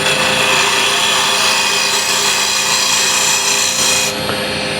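A refiner scraping a spinning walnut burl box on a lathe, a loud, continuous rasping hiss with a steady hum beneath, heard alone without talk.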